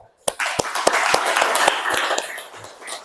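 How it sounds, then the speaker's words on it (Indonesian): A short burst of sharp, fairly loud claps from students in a classroom, quickly swelling into scattered applause before fading out after a few seconds. "Tepuk tangan."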